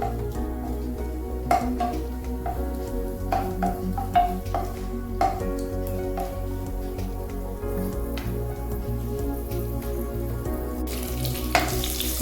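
Raisins sizzle and crackle in hot ghee in a pan while making mango kesari, a steady close frying hiss with scattered sharp pops throughout.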